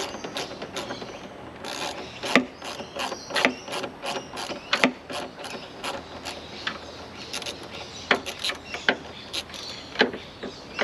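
Factory mirror bolts come out of a Toyota Hilux door with a ratchet, giving rapid close clicking and ratcheting bursts in an uneven rhythm, with small metallic clunks between.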